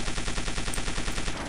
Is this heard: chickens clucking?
no